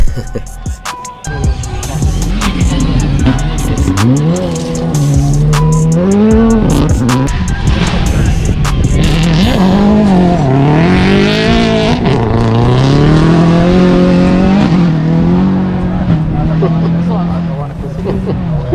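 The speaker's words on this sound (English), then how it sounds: "that's what it's like being a rally car spectator" Rally cars race past on a West Australian Rally Championship stage, engines revving and rising in pitch loudly and close as they pass, with spectator voices.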